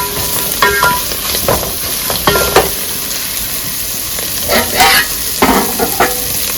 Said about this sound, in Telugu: ఇప్పుడు ఇందులోకి కొబ్బరిపాలు పోసేసేద్దాం.